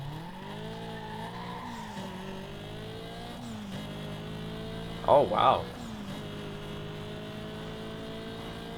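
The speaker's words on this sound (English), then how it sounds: "That engine sounds super nice though." A car engine in Need for Speed Most Wanted, a steady droning hum with shifting pitch running under the whole stretch, with a brief louder burst midway and someone speaking over it.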